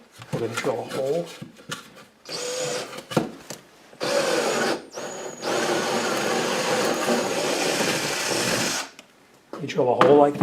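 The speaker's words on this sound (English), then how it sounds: "We're going to drill a hole." A power drill bores a hole into drywall or cinder block to hang a curtain rod, whirring in several loud bursts separated by pauses, with a voice talking at the start and end.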